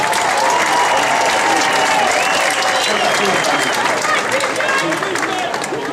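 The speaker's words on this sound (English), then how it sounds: "A round of applause for the top 10 of the class of 173." A high school graduation crowd applauds the top ten of the class, loud sustained clapping filling the hall with faint voices mixed in.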